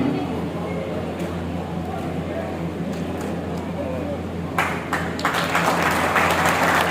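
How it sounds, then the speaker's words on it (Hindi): Audience applause at a district talent-honouring ceremony in Mahendragarh, heard beneath a steady amplified hum and ongoing speech, with the clapping swelling louder and more distinct in the last couple of seconds. "तालियों की गड़गड़ाहट जारी रहनी चाहिए।"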